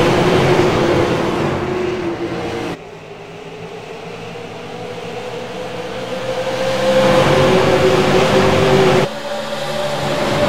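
Stock race cars roar at Iowa Speedway, loud engines with a steady pitch that rises and falls as they accelerate and pass, and the sound cuts abruptly between shots.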